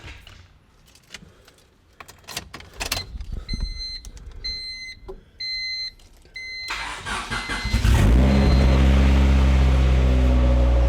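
Keys jangle and a car chimes before a turbocharged Honda Civic engine cranks and fires, then settles into a loud, steady idle close by.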